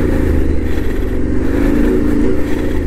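A Yamaha Tenere 700 motorcycle rides through sand on a trail, its engine droning steadily and close with slight throttle variations, loud and continuous with no talking.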